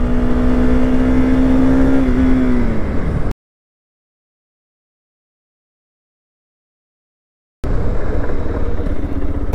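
A Pulsar RS200 motorcycle under braking test, engine whine falling as it slows, then a sudden total silence for several seconds before loud road and engine noise returns.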